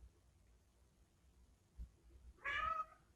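A pet cat named Fluff lets out a single short meow in a quiet room, faint and close, preceded by a small thump.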